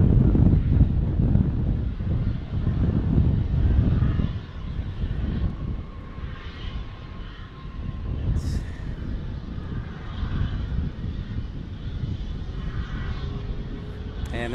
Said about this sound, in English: He's right on American 81 Heavy. From London, landing right now,